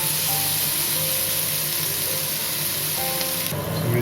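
Blended tomato paste going into a hot pan for mushroom Manchurian: a steady hissing sizzle with a faint background hum, fairly loud and close, shifting in tone near the end, no talking.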